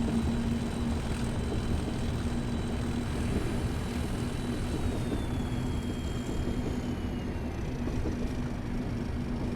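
Two diesel locomotives from the BLS Dartmouth Tractors pack in Train Simulator Classic rumble steadily at close range, a constant low engine drone with a faint high whine, running on without a break and with no talk.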